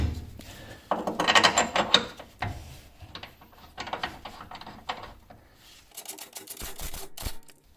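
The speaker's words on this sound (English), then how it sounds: "Now it's just a matter of putting the bolt back in." Metallic clicking and ratcheting as a suspension bolt is threaded back into a Honda Beat during a bushing replacement, coming in irregular bursts of taps and clatter at close range.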